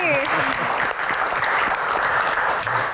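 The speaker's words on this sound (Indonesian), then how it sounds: "Kita berikan tepuk tangan yang paling meriah untuk Gian dan Pak Muhajir Effendi" Audience applause at an Indonesian talk show event, dense steady clapping from a large crowd filling the room, with brief voices over it at the start.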